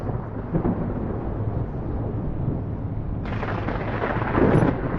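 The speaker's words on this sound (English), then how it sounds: "To heck with this storm." Deep thunder rumbles continuously through a storm, a broad low roar that swells slightly toward the end, with rain-like hiss filling in and no talking.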